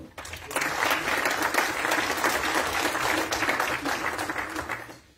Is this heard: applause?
yes